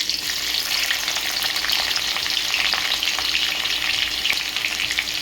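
Chopped onions fry in hot oil in a pan, giving a loud, steady sizzle with fine crackling that continues without a break and without voices.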